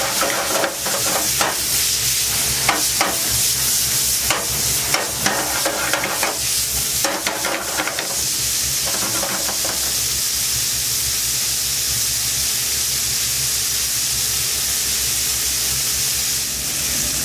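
Bacon sizzles in a pan with a loud, continuous hiss, broken over the first half by scraping and stirring clatter before settling into a steady frying roar.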